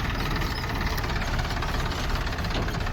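A tractor engine runs steadily nearby on a farm, giving a dense, rumbling drone with a faint knocking pulse that holds at a constant level throughout, without speech.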